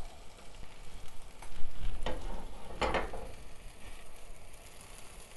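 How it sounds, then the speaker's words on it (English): Chicken pieces sear in sauce in a hot pan for a 30-minute chicken parmesan, giving a steady close sizzle and crackle with a few louder spits and stirring scrapes. "See it sizzling there?"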